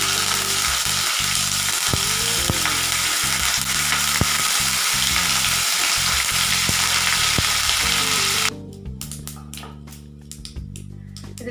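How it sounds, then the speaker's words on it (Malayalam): Mustard seeds crackle and sizzle in hot oil in a pan for a breakfast dish, a dense steady popping that cuts off abruptly near the end, leaving only faint sizzling. "ചൂടായ ഓയിലിലേക്ക് നമുക്ക് 1/2 ടേബിൾ സ്പൂൺ കടുക് ഇട്ട് കൊടുക്കാം. കടുക് പൊട്ടി വരുമ്പോൾ"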